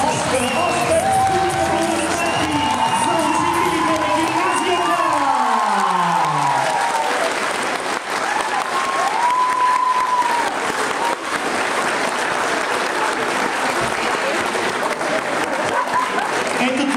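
Sustained loud audience applause and crowd noise at a Bulgarian festival event, steady throughout, with a voice speaking over it early on.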